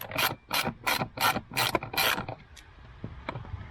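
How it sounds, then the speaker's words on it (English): Screws being backed out of the plastic air box top on a 2018 GMC Terrain: a series of about six quick ratcheting, scraping bursts close by, then quieter clicks and handling noise. "I'm going to remove the 4 screws holding the top on the air box"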